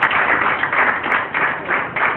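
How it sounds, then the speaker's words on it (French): Audience applause at an ecology award ceremony for a winning NGO, dense continuous clapping from a crowd, loud and close, swelling in gentle waves. "je vous prie d'applaudir Grave ONG, ici s'il vous plaît"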